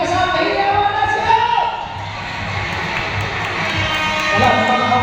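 Guests at a Zumba 10th anniversary gathering on a covered court shouting and cheering together, a loud, continuous roar of voices that dips briefly then swells again toward the end.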